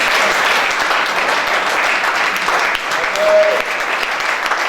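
A church congregation at a seminar claps in a dense, continuous round of applause, close and loud throughout, with voices calling out beneath it.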